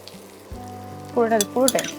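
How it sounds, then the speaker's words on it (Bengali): Chopped tomato dropped into mutton already frying with cabbage in a pan, giving two bursts of loud close sizzling over a quieter frying hiss. "আর যে টমেটো কুচিটা আছে সেটাও এখন দিয়ে দেবো।"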